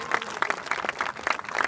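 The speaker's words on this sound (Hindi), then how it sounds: "शानदार ताली बजाइए" An audience claps in a short burst at a stage event, a dense patter of hands that rises and falls unevenly, fairly close and without speech over it.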